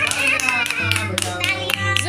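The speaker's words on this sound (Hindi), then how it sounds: "जोरदार तालियां" A few people clap at a small anniversary gathering at home, quick uneven hand claps heard close, mixed with talking voices and sustained tonal background sound.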